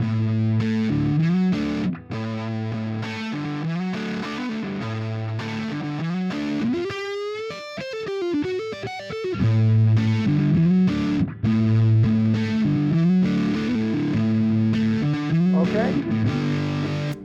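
Distorted electric guitar played through an amplifier, repeating a riff with a bending, sliding passage midway; loud and continuous.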